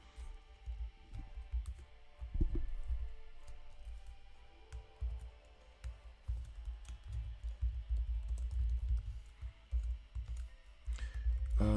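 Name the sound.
typing on a computer keyboard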